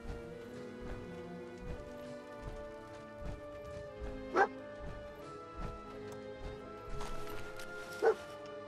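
Dogmeat, the dog companion in the game Fallout 4, gives a few short barks and yips amid scattered game sounds, heard at moderate distance over a quiet background.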